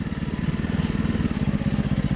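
Honda CRF 300 Rally motorcycle ridden off-road, its single-cylinder engine thumping in a steady rapid pulse, loud and close throughout with no talk.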